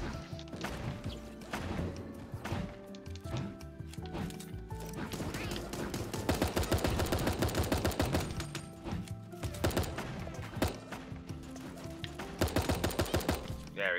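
Gunfire in the Super Animal Royale video game, with repeated quick bursts and sharp cracks over background game music and effects, moderately loud, with bits of voice mixed in.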